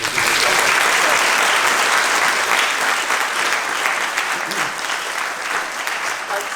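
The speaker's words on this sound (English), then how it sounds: "let's give Matt a round of applause as well" An audience at a film Q&A gives a round of applause for an absent collaborator, loud continuous clapping that fills the hall for several seconds and eases slightly near the end.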